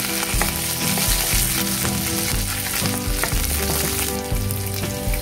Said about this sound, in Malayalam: കറിവേപ്പിലയും കൂടെ ചേർത്ത് നന്നായിട്ട് നിളക്കി കൊടുക്കാം.